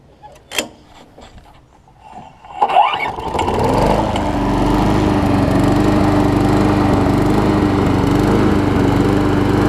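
A Briggs and Stratton Quantum engine, around 6 horsepower, on a push lawn mower is pull-started after a few clicks and taps, then settles into a loud, steady, close idle drone.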